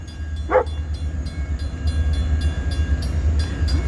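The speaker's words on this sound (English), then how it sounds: "here comes the freight" A freight train hauled by a three-engine lashup rolls past with a steady rumble and rhythmic clacking of wheels over rail joints; a dog barks once early on.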